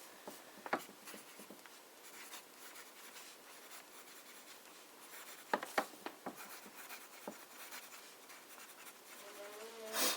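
A broad-nib fountain pen scratches softly across paper, faint and close, with intermittent strokes and small taps, no voices.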